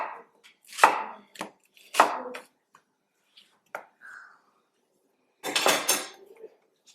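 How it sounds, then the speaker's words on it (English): A knife chops celery, carrots and red onion on a board in a home kitchen, a few sharp separate strokes and short clustered bursts with quiet gaps between, close and alone. "I'm going to chop some celery. I'm also going to add some carrots, 1 onion. I'm using a red onion"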